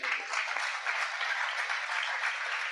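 Audience at a religious discourse gathering claps together in a dense, even burst of applause, sustained and fairly close, with no voices over it.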